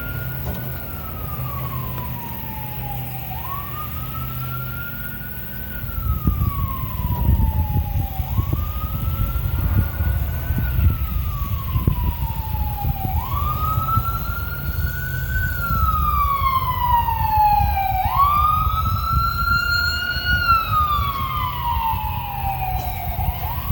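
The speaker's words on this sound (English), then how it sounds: "there's an ambulance coming by" An ambulance siren wails in rising and falling sweeps, growing louder and brighter as it approaches, over steady traffic rumble.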